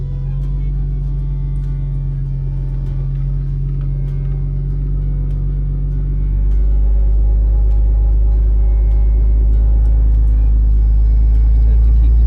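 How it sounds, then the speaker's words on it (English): A car creeps slowly along a steep roadside edge, its engine a loud, steady low rumble that deepens and swells partway through as power is applied to make the tires grab. "I'm just going real slow, trying to get the front tire to grab and pull back up."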